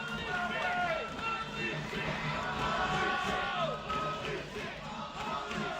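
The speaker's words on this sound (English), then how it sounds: "You hear it right there from the crowd" A big arena crowd at a women's wrestling show roars after a kick-out from a cutter, loud, dense cheering and shouting that swells and holds for several seconds.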